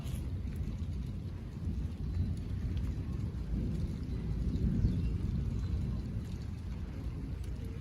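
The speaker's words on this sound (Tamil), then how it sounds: "இடி இடிக்குதுங்க நல்லா." Low, continuous rumble of thunder rolling under steady rain, with light wind noise, heard from outside during a building storm; no voices.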